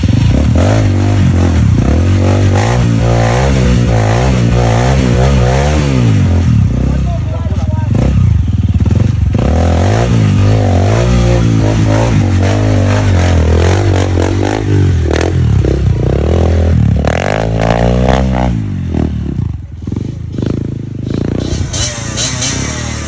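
A motorcycle engine revs and rises in pitch while being ridden, loud and close with rattling clatter throughout, and people talk over it.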